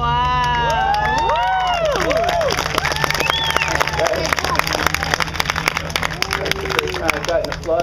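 A beach crowd at English Bay in Vancouver cheers, shouts and claps for a fire performer, loud and lively with voices rising over scattered applause.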